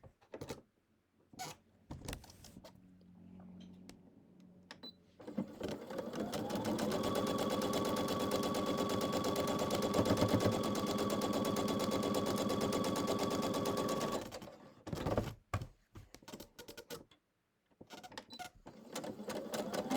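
A sewing machine stitches down a quilt block seam for an Ohio Star block, running steadily for about eight seconds in the middle with quieter handling clicks and pauses before and after.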